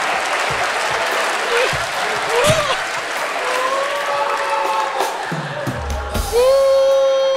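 A live comedy show audience applauds loudly and continuously, with whoops and shouted cheers rising over the clapping and the crowd swelling again toward the end.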